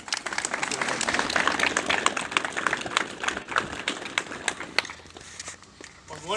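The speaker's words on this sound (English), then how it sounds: "I want to give you a big round of applause" A big round of applause from an audience at a charity cycling tour event, busy clapping that swells early and then thins into scattered claps and small knocks and thumps.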